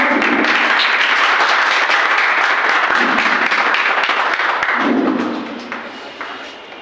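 Audience at a teachers' honour ceremony claps loudly and continuously in a dense, close burst, then the clapping fades out toward the end.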